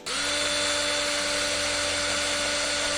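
A small powered screwdriver drives out the tiny Phillips 0 screws of a Digimon Pendulum Color virtual pet toy, giving one steady, close, high whine for about three seconds with no talking.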